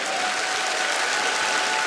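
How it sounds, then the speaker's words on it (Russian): A dense, steady wave of clapping from a large audience at a live comedy competition show, sustained and even throughout. "Аплодисменты!"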